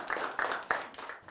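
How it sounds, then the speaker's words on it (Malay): A few sharp hand claps ring out in a classroom during a Form 4 Malay language lesson, about three or four quick bursts in a short, uneven rhythm at close range, with no talking. "Berikan tepukan."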